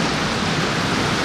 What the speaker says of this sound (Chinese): 这雨下的是真不小啊！